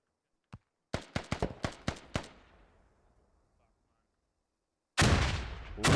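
In an online multiplayer skirmish game, one sharp shot is followed by a rapid burst of gunfire that fades into a rumbling tail, then a loud grenade blast erupts near the end. A voice is faintly audible.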